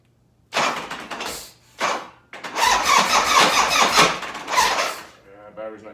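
A 1985 Harley FXRS with an Evo engine cranks in a couple of short bursts, then catches and runs roughly for a few seconds before dying, loud and close, with a weak battery and little fuel.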